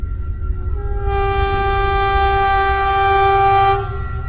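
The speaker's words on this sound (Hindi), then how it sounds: "और फिर ये ट्रेन स्टार्ट हो जाती है।" A cartoon train starts moving and sounds a long, loud, harmonic horn blast that holds steady for a few seconds over a low rumbling background, then cuts off. No one speaks.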